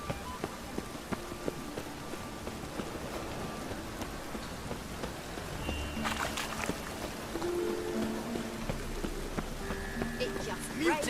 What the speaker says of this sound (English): It just rains.